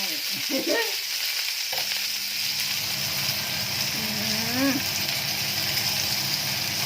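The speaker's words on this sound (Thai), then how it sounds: "ปูนาทอดกระเทียมพริกไทย" Field crabs fry with garlic and pepper in a pan, giving a steady sizzle throughout. A voice speaks briefly over it.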